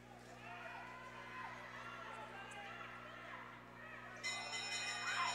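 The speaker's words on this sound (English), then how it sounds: "There's the bell for Kwon." At a 2019 short track speed skating age-group national race, a last-lap bell rings out near the end, bright and repeated over a continuous crowd murmur and arena hum.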